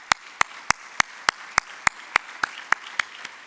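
Clapping at a city State of the City address, a crisp, evenly spaced series of about a dozen hand claps in steady rhythm, close and distinct.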